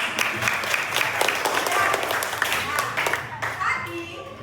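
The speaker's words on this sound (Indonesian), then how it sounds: "Tepuk tangan dulu kalian." Children in a classroom clap their hands together in a dense, continuous patter, with a teacher and kids talking over the clapping throughout.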